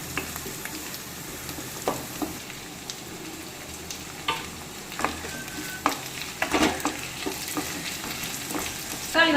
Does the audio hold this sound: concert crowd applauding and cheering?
no